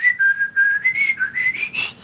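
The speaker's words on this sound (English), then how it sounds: "The funny part is when you were whistling." A person whistles a short, wavering tune of several sustained notes that slide up and down, loud and close with no talking.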